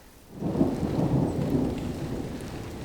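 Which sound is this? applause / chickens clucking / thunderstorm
thunderstorm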